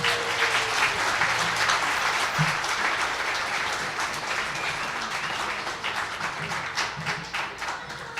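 A comedy show audience claps for a performer taking the stage, a dense, steady wash of applause lasting several seconds and gradually easing off toward the end.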